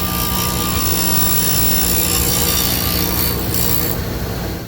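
A grinder works steadily on a metal part of a 1905 rabbet plane, giving a loud, continuous rasping whine that holds for several seconds before easing slightly at the end, with no talking.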